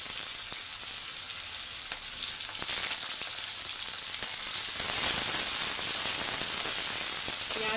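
Chopped onions fry in oil tempered with cumin, giving a loud, continuous close hiss and sizzle that swells stronger after the first few seconds, with occasional faint clicks and no talk.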